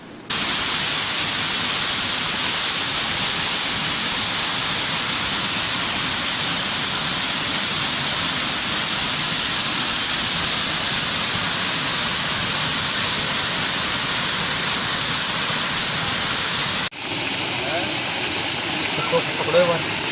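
A swollen river flows past its banks in a steady, loud, hissing rush of water that fills the whole stretch, then shifts slightly to a thinner wash near the end.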